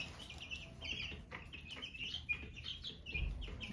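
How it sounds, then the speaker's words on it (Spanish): Chicks feeding in their pen: a low, continuous wash of soft peeps and chirps with light pecking and scratching underneath, quiet and close, no talking. "Andan comiendo los pollitos"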